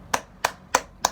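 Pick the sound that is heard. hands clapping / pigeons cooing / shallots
hands clapping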